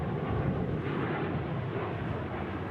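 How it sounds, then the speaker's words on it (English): Southwest Airlines jet departing Kansas City International Airport, a broad, steady roar of engines heard from a distance, filling the whole stretch without pause. "Southwest Airlines heading out"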